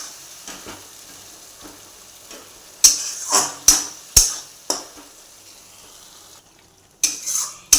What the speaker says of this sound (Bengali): এরপরে মশলাটাকে ভালো করে কষবো আমি।